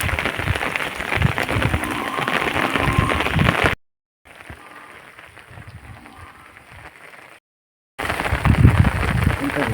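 Heavy rain pours down steadily on a village, a dense, loud roar of falling water that cuts out twice for a few seconds before returning, with a voice speaking over it.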